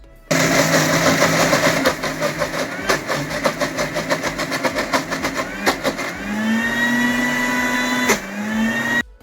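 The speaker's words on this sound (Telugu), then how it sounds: "ఈ మీగడలో కొన్ని ఫ్రిడ్జ్ వాటర్ పోసి మూత పెట్టేసుకొని మిక్సీ పట్టుకొద్దాం." A mixie grinder churning milk cream with fridge water, a loud whirring motor drone that stutters in short pulses, then runs smoothly with a rising pitch before stopping near the end.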